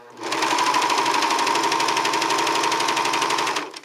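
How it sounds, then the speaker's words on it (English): An overlock serger sewing a decorative finish on a praise dance overlay runs as one loud, continuous, fast mechanical whir, starting and stopping cleanly, close to the mic and with no talk. "and then I'd be using my overlock machine, my serger, as a decorative finish"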